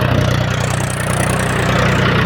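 A tractor pulling a rotavator in a farm field runs with a loud, steady engine drone and continuous low rumble, close and unbroken, with no one talking.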